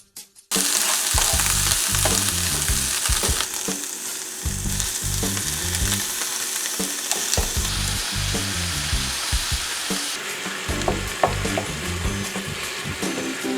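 Onions frying in a hot pan, a loud close sizzle that starts abruptly and hisses steadily, with rhythmic scraping and stirring clatters repeating throughout.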